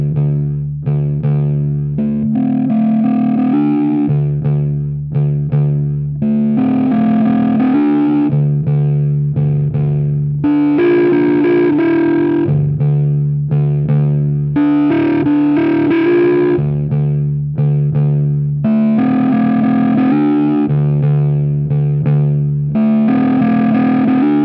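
Electric guitar through a Tark Audio WORF overdrive pedal, heavily saturated and gainy yet dry, with chugging palm-muted low notes and brighter sustained chords played continuously and loud, no speech.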